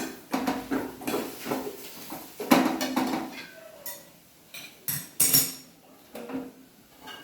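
A ladle stirs dry fruit khichdi in a metal pot, giving several close, sharp clinks and scrapes against the pot in irregular bursts, with quieter gaps between the strokes.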